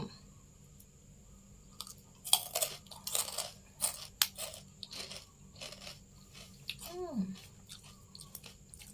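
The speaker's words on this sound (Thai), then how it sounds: "เอาสิมากินให้เบิ่ง เห็นเด้อจ้ะแคบหมู น้ำพริกหนุ่ม" Crunchy pork cracklings eaten with young green chili dip give sharp, close crunches and chewing in irregular bites, loud against a quiet background, with a voice speaking briefly.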